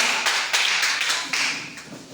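A church congregation applauding, a dense burst of many hands clapping at once, fairly close and loud, with uneven swells and no talk over it.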